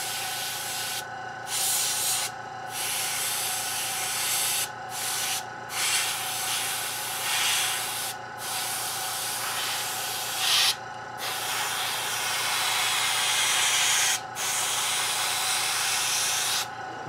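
An airbrush sprays thinned Vallejo primer onto a WW2 German armoured vehicle model in short hissing bursts of steady spray, broken by several brief pauses, close and alone without talk.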